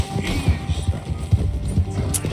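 Horse hooves gallop in a video game, a quick, steady run of heavy thudding beats close up, with no one talking.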